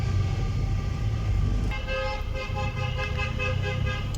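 Car horns honk together in a wedding convoy, loud and sustained with overlapping tones that thicken partway through, over a steady hum of traffic.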